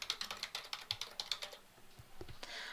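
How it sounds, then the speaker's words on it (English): Quick, light keystrokes on a computer keyboard tap out a short burst of about a dozen clicks in an even rhythm, close and clear, ending with a soft shuffle and quiet room noise. "So I'm just going to type in my recipient's name"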